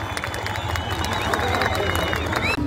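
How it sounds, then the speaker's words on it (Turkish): Audience at a festival in Sivrihisar clapping and cheering in a dense, continuous wash of applause, while a voice carries on over the crowd. "Kendinize alkışlar mısınız acaba?"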